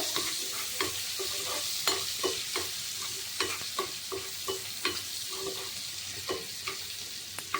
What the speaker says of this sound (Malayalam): ഇത് വറുക്കാനായിട്ട് വെച്ചു